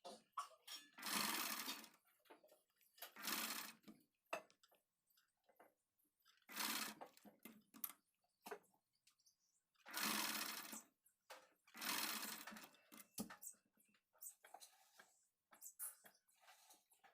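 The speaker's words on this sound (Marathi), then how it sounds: "इथे चारही बाजूने आपण स्टिच करून घेऊ।" A sewing machine stitches around the edges of a blouse sleeve in short, loud bursts of whirring separated by quiet pauses, with no talking.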